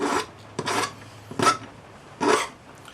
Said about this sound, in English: File at about a 45-degree angle.